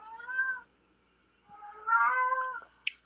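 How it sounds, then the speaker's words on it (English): A house cat meows twice indoors, a short harmonic call followed by a longer, louder wavering meow, close by with no talk over it. "she does that meow right by me, too"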